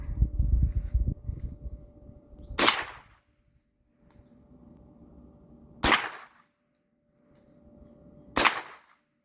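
Three single shots from a Smith & Wesson M&P AR15-22 rifle, sharp cracks spaced a few seconds apart and fairly close, with quiet outdoor background between them.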